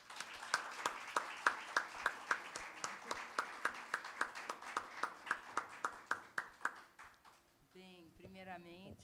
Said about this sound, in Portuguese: eu peço uma salva de palmas